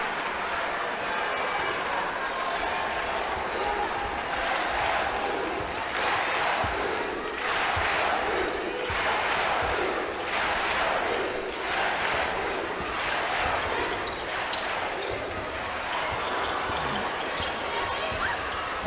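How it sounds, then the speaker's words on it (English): The crowd at Cameron Indoor Stadium grows louder and rhythmically roars during a Duke basketball game against South Carolina, with sneaker and ball noise and a commentator talking. "now the crowd at Cameron is starting to get into it"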